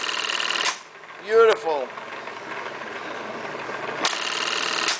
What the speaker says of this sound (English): Yes, that's what's called tacking machine, high lift for drapery, pleating